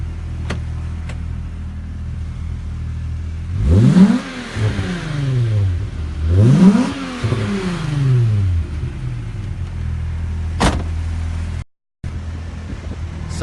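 Two rising engine revs from a Mitsubishi Eclipse Fast and Furious replica car, loud and close over a steady idle, each climbing sharply then falling back, with a brief click near the end.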